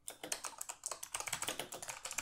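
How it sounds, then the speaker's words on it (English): Rapid, crisp keystrokes on a Razer Huntsman Elite mechanical keyboard, an even run of close clacky taps with no talking. "so I guess they sound similar to the Razer Green keys"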